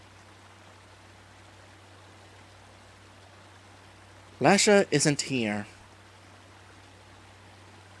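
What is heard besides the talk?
running water in a video game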